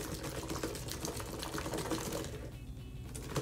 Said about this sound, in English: We're gonna close this tight and shake it around.